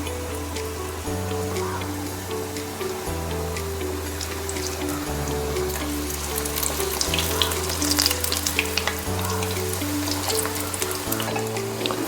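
Quail egg bhaji sizzles in hot oil, a steady crackling hiss with scattered pops, continuous and close, under a repeating tone of background music.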